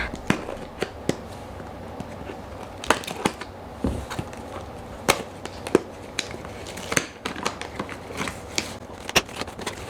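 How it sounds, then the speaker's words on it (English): Scattered sharp scissor snips and crinkly crunching of packaging holding rattan balls, irregular and close, with brief pauses between cuts. "Oh, here's some scissors."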